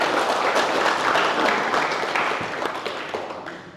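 An audience at a public discussion on education in North Maluku applauds university students, with dense, steady clapping from a crowd in a hall that slowly fades toward the end.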